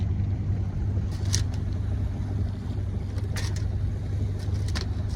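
An auxiliary engine drives a sailboat under motor sail offshore on a breezy day, a steady low drone running throughout with wind and water wash over it and a few brief splashes or gusts.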